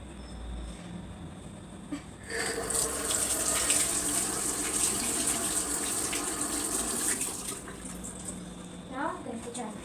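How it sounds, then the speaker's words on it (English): Water runs from a tap as someone washes their hands, a steady close splashing flow that starts after a couple of seconds and continues, with a voice speaking briefly over it. "Okay, now I'm going to wash my hands."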